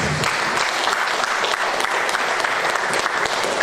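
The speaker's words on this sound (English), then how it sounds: "Can we give people a round of applause?" A conference audience of the IAWPA national conference claps steadily and loudly, a dense sustained round of applause that fills the whole stretch without letting up.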